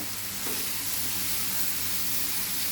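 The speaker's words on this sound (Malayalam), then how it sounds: "പടവലങ്ങ വഴറ്റിയത് ഇട്ട് കൊടുക്കുക. പ്രത്യേകം തന്നെ വഴറ്റുക." Sautéed snake gourd sizzles in a hot pan over high flame, a dense, steady hiss of frying that fills the whole short stretch without pause.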